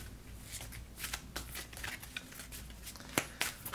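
Oracle cards shuffled in a continuous papery riffle with quick repeated flicks and slaps throughout, close and moderately loud, no voices.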